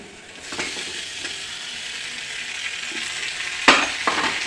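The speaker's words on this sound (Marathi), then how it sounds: "टोमॅटो आपण कांद्याबरोबर भाजून घेऊया" Chopped tomatoes and onions fry in a pan with a steady, close hiss of sizzling. A few sharp clinks and scrapes from stirring come near the end, and no one speaks.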